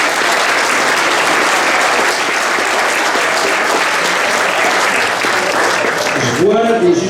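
An audience at a 50th anniversary celebration applauds guests with sustained, dense clapping that stays loud and even throughout, and a voice begins speaking just as the applause ends.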